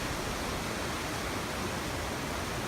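Donut Falls waterfall roaring as a dense, steady broadband rush, close and constant with no change in level and no one talking.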